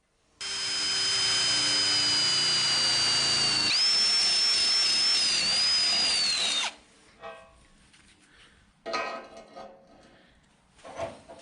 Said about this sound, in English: So I need to drill a couple of holes in each side of each of the tubes